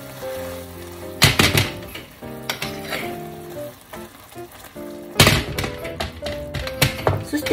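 A thick new-onion steak frying in butter and soy sauce over low heat while the pan is shaken, giving bursts of sizzling and pan clatter beneath steady background music.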